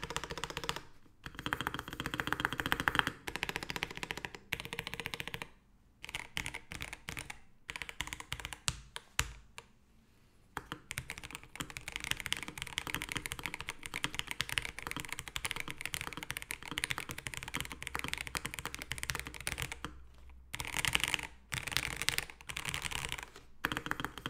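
Steady mechanical key typing on a MelGeek Mojo84 keyboard fitted with foam and silicone dampening, close and continuous with a few brief pauses, no talking.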